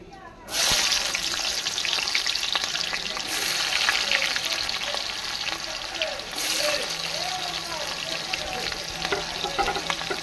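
Chopped onion hitting hot oil bursts into a loud, steady sizzle that crackles on without a break, with faint stirring scrapes along the way.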